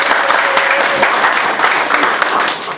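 Audience applause at a political conference and debate, a dense, steady burst of many hands clapping, loud and close throughout.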